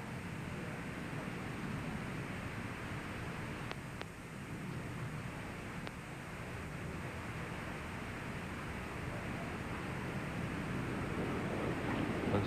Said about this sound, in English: so it's the sound you're hearing there is just the wind whipping over the wings and through the parachute